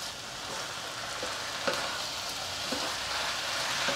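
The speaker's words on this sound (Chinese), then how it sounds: "快速翻炒，把调味料炒至融合" Rice noodle seasonings of rose salt, white pepper and sugar stir-fried in a hot wok make a steady, dense sizzle, with a few light scraping knocks from the stirring, close and alone throughout.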